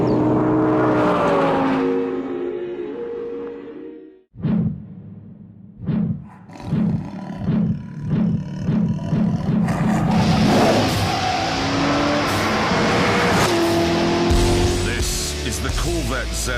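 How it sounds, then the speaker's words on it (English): A supercharged Corvette ZR1 engine blips through a series of short revs, then builds into a loud, sustained roar. A voice is heard before the engine starts. "This is the Corvette ZR1, which is extremely fast."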